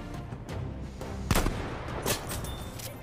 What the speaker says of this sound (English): Next up, we have Military Man 12 and this great sniper shot.